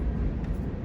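A deep, steady rumble of a passing train, filling the low end and holding at constant loudness for the whole moment, with no talk.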